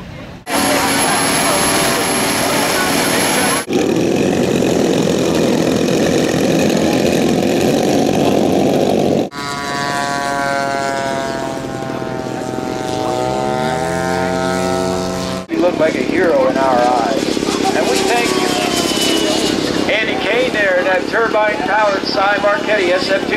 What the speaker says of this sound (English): This is powered by an honest-to-God turboprop engine, just like the real thing.